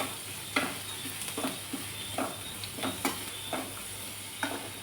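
Crushed garlic hits hot oil in a pan while pathri bhaji is being made, giving a steady low sizzle broken by repeated stirring scrapes at an even rhythm, close and fairly quiet, with no one talking.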